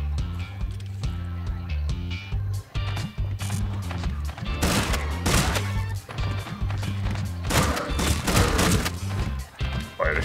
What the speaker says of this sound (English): Fire the shotgun, nice.